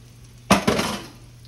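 Hoe cakes shifted around in a skillet: two quick scraping clatters of a utensil against the pan close up, followed by a short fading sizzle.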